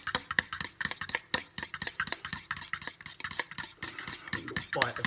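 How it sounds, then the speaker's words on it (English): Rapid rhythmic scraping and clinking of a utensil stirring a jalapeno mixture through yogurt in a bowl, steady and close, with a voice talking faintly underneath. "And we'll mix that through the yogurt. So give it a good mix."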